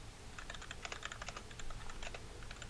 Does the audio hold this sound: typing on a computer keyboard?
yes